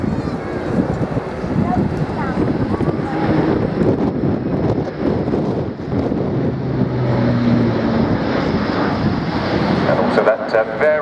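A military jet flies a steep turn from takeoff at the Royal International Air Tattoo air show, its engine producing a loud, continuous roar mixed with wind rumble for the whole stretch, while a commentator talks over it.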